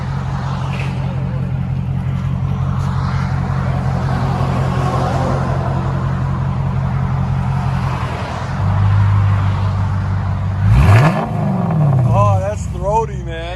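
A Dodge Charger R/T with a 5.7L Hemi and aftermarket exhaust idles loudly with a deep, smooth rumble, then blips the throttle in rising revs near the end, while someone talks over it.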